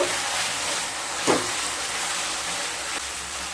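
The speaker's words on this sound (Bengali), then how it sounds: "খুব ভালোভাবে মিশিয়ে নিয়ে লো স্টিমে আবারও 1 মিনিট কষিয়ে নেব" Spice paste of Kashmiri chili powder, cashew, melon seed, poppy seed and mustard powder sizzles on low heat for a ridge gourd and prawn curry: a steady, even hiss with a couple of faint stirring scrapes.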